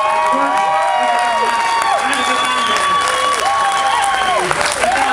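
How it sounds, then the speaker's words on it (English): An event audience in Las Vegas applauds and cheers for NASCAR driver Jeff Burton, sustained dense clapping with whoops, while a voice talks over the crowd. "Let's give him a big round of applause one more time."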